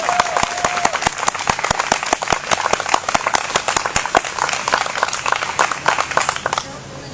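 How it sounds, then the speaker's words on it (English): A crowd at a Columbus, Georgia climate jobs and justice rally gives the speakers a sustained round of applause, dense continuous clapping for several seconds with a brief voice or whistle tone near the start. "Please give our speakers another round of applause"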